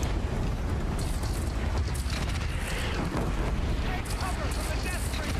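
Ball launchers fire on machines in the Horizon Zero Dawn video game, producing a dense barrage of booming blasts and bursts throughout, loud and continuous, with game action noise layered underneath.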